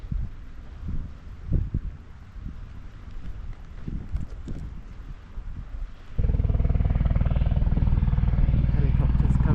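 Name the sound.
helicopter flying overhead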